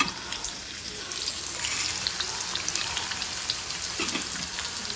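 Onions fry in a pan in a home kitchen with a continuous, hissing, rain-like crackle that stays even and fairly close throughout, with no talking.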